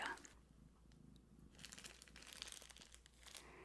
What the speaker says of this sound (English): We've got kitten purrs.